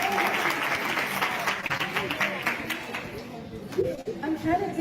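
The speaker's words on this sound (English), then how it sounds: "Let's give her a round of applause" Audience applause for a female singer at a live park-day stream session, a steady wash of clapping that thins toward the end while voices murmur underneath.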